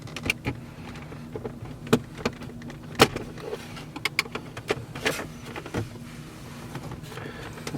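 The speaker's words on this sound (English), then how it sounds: "we're gonna take our sharp tool here and we're gonna use it to lift up a corner" A sharp tool prying up the shifter trim on a Toyota Avalon, sharp plastic clicks and snaps arriving irregularly over a low steady hum inside the car, close with no voices.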